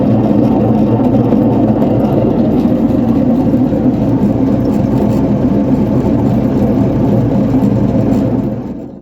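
Tractor-driven Dalen 278B snow blower running with a worn, noisy rear flange bearing, a loud continuous whirring mechanical drone with steady grinding roughness, cutting off abruptly at the end.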